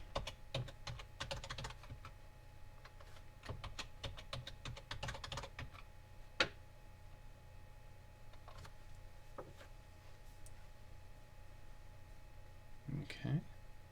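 Passphrase typed at a command prompt on a computer keyboard, with close, rapid clusters of key clicks in bursts followed by a few isolated taps, and a quiet hum between them.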